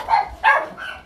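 A dog barks twice in quick succession at home, two short, sharp barks close by with little else around.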